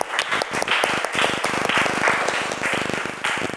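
Classroom applause, a group of students clapping hands in a dense, steady patter of sharp claps that carries on throughout, fairly close and without voices over it.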